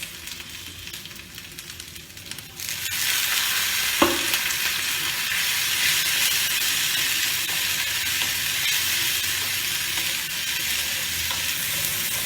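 Ginger frying in a hot pan with oil, a sudden loud sizzle that jumps up after a quiet start and holds as a steady broadband hiss, with a brief clatter of a utensil at one point.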